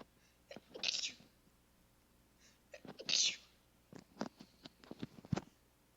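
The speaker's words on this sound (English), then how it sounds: "Hang on, I gotta sneeze." A person sneezes twice, two sharp, close bursts a couple of seconds apart, followed by quiet rustling and soft breathy sounds during a podcast-style conversation.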